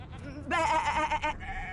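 A single wavering sheep bleat sounds up close, loud and drawn out over a low background hum, from the video game Divinity: Original Sin II.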